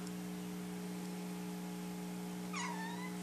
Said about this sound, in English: Thunder, you have such a high-pitched squeaky voice for being a big 6-month-old kitten.